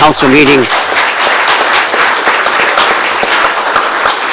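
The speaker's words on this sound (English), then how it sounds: "I think they deserve a round of applause" Audience applause at a press conference on health care in Fort Erie and Port Colborne, a steady dense wash of clapping that fills the room right after a brief voice at the start.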